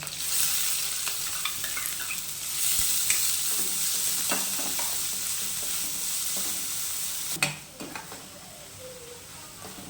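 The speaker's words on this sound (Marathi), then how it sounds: "आता त्याच्यामध्ये आपण मिरची टाकून घेतो। आता त्याच्यामध्ये आपण कांदा टाकतोय।" Chillies and onion frying in hot oil with browned garlic for a drumstick-leaf bhaji, a steady close sizzle with occasional stirring scrapes and utensil taps, no talk.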